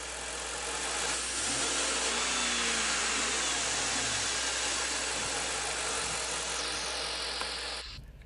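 A car with a throttle body fault is held at a steady rev of roughly 2,000 rpm, giving a loud, continuous engine drone that barely changes before dropping off at the very end.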